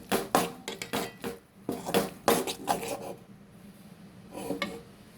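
Turmeric and home-ground masala powder being stirred in a cooking pot for kadugu kuzhambu, giving a series of close scraping and clinking strokes of a spoon against metal that come in bursts, then ease off.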